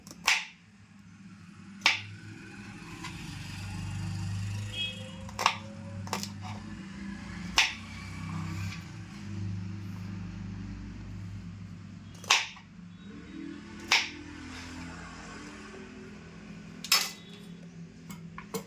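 A blade snips the stems off three tender bitter gourds, giving sharp, isolated clicks spaced a second or more apart over a quiet low hum in a home kitchen.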